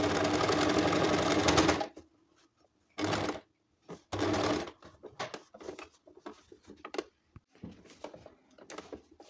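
A sewing machine stitches the base of a shopping bag made from used clothing, a loud steady whir in short bursts separated by pauses with faint handling noises.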